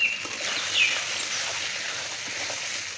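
Turmeric and Kashmiri chilli powder fry with chicken in a pan, giving a steady, close sizzle with a brief faint chirp near the start, no voices.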